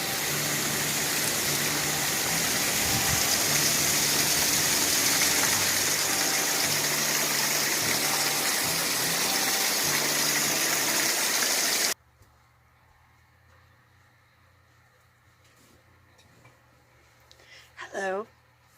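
A waterfall pours in a steady, loud broadband rush for about twelve seconds before cutting off, leaving quiet low hum with a brief sound near the end.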